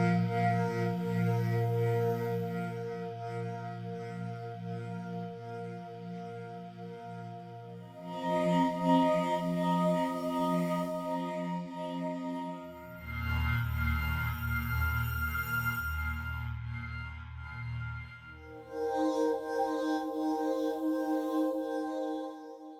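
A synthesizer contact pad from a song holds long sustained chords that shift to a new chord every few seconds, smooth and continuous, with no voices.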